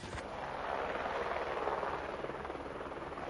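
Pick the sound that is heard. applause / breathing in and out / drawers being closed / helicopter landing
helicopter landing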